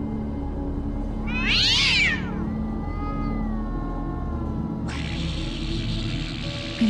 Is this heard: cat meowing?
yes